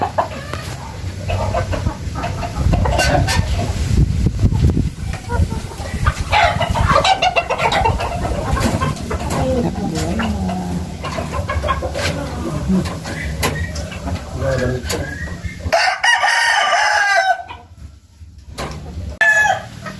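Roundhead gamefowl chickens cluck and a rooster crows nearby at a backyard breeding pen, with someone talking over the birds through most of it.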